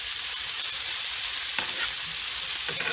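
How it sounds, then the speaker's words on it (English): Onions grilling in a pan alongside meat for mini tacos give a steady, close sizzle throughout, with a couple of brief stirring scrapes near the end. "I went ahead and added my onions because I love grilled onions. And we're going to let that cook just for a little bit."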